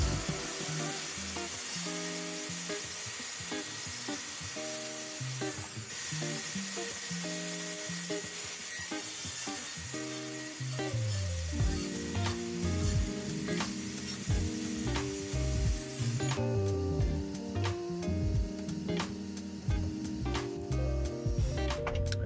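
A saw blade cuts notches into wood with a jig in repeated passes, a close, loud, grinding whine that shifts in pitch as the cuts change, with no talk.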